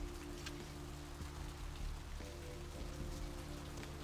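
Rain pours in the video game Vampire: The Masquerade, a steady soft patter on surfaces heard faintly over low, droning background tones, with no talking.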